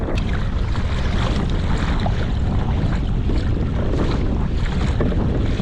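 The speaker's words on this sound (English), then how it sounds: "the wind's starting to pick up a little bit here" Strong wind roars steadily across a fishing boat trolling for California halibut on San Francisco Bay, a dense, buffeting rush with heavy microphone gusts and the wash of water beneath, loud and unbroken throughout.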